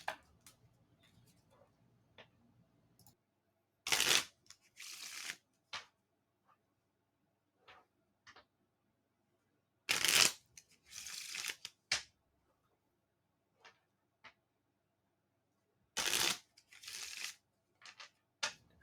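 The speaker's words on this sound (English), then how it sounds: "Shuffle it until you feel you've shuffled it enough." A deck of playing cards is shuffled in three separate bursts of crisp riffling, each followed by near silence and a few faint ticks and taps.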